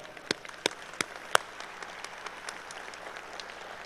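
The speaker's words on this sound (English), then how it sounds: "I'd like to give you a round of applause" A brief scattering of audience claps for a senator asked to stand, a few sharp isolated claps in the first second and a half before thinning out into quiet room murmur.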